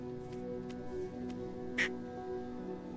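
A duck gives one short quack in a Minecraft horror mod, faint over a quiet, steady ambient drone, with a few soft ticks before it.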